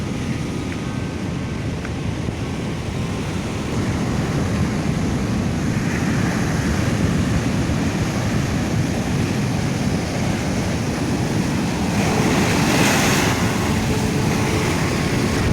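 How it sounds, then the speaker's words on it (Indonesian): Ocean waves break against a rocky, reef-lined shore below a cliff in Tasikmalaya, a continuous close roar of churning surf and wind that swells slightly louder midway, with no talking. "Ya, ombak mulai menerjang lagi."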